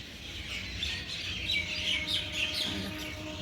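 Several birds chirp and tweet in short, scattered calls over a calm, quiet background, with no people heard.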